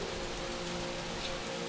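Steady, soft rainfall, an even hiss of drops on a surface with a low background hum, heard alone without voices.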